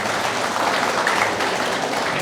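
Steady crowd applause at a graduation ceremony fills the whole moment, a dense, even wash of clapping with no break and no voices on top.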